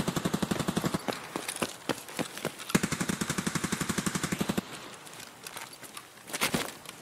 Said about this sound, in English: They gotta be over there shooting.